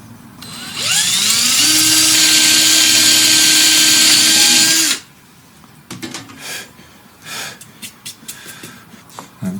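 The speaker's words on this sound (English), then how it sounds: "I've been using power tools the whole time like just then" A power tool, likely a drill or driver, whines loud and steady for about four seconds while screws go into the top of an Edwardian-style wooden coat rack, then cuts off to quiet workshop handling noises.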